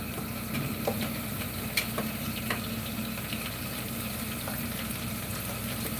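Chopped onion sizzles in a hot pan in a Konkan home kitchen, a steady close hiss of frying with a few faint clinks and stirring touches, no voices.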